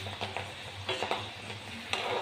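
Soaked chana dal, split chickpeas, fries in a pan for cholar dal bhaja, giving a quiet close sizzle broken by a few soft scraping stirs.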